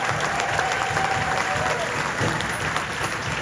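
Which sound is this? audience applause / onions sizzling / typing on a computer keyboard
audience applause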